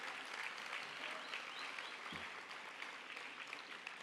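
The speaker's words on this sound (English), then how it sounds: "Let's have a round of applause for all of our ringmen and volunteers that have made today work." Steady audience applause for ringmen and volunteers at an evening competition finals, a continuous distant wash of clapping from a large crowd, fairly faint and even throughout.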